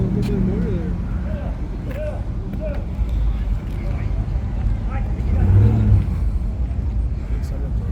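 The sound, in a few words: drag truck engine arriving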